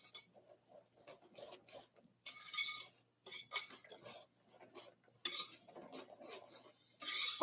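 A utensil scrapes and clinks against a container while blueberry cinnamon swirl batter is mixed, in uneven bursts of stirring with short pauses, close and fairly loud.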